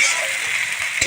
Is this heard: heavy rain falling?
no